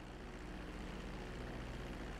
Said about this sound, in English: Okay, I've landed.